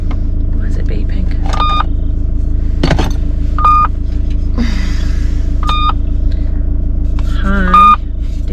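A short electronic car warning chime beeps several times at intervals over a steady low engine rumble on a river track in Alpine National Park, Victoria, with brief voices and rustling in between.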